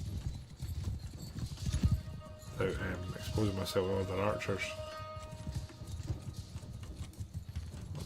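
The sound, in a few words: horse hooves in video game Shokuho (Mount and Blade)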